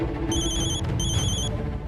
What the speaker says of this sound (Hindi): ये देखी फिर से फोन आ रहा बा।